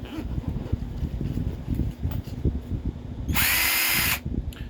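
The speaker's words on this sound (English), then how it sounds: "this is my lag bolt driver that has been to the playa many times" A cordless 20 volt lag bolt driver whirs in one loud, steady burst of about a second near the end, after a stretch of quieter clicks and rustling handling noise.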